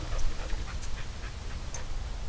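A dog pants steadily and softly nearby, rhythmic breathy huffs over a low background rumble, with no one talking.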